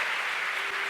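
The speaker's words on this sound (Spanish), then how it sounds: "Denle un aplauso al Rey de Gloria" Applause fills a church during a sermon, a dense, even wash of clapping that holds steady through the whole short stretch with no voices over it.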